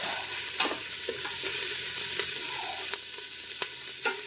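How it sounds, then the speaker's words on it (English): Vegetables sizzle steadily in a hot pot for chicken and broccoli soup, with several scraping stirs of a utensil cutting through the constant frying hiss, close and clear, without talk. "I'm going to stir this around a little bit."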